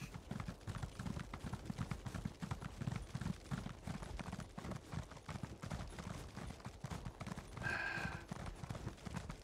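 Rapid horse hoofbeats clop steadily and close up, a galloping rhythm that runs continuously, with a brief tonal chime near the end, in the video game Elder Scrolls Online.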